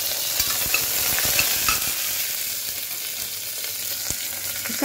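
Mustard seeds, asafoetida, curry leaves and crushed garlic sizzle steadily in hot oil for a rasam tempering, a close bright hiss with small pops and the scrape of stirring.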